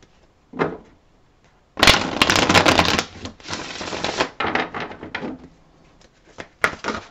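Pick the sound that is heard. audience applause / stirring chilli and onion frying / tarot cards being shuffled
tarot cards being shuffled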